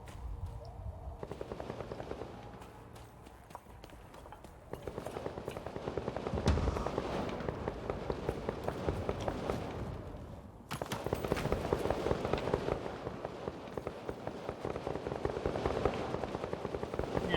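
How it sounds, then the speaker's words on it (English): Game gunfire in Vampire: The Masquerade - Bloodhunt, rapid crackling shots that rattle on in steady bursts, fairly distant and quiet behind a low background hum. "Yeah, I hear bullets."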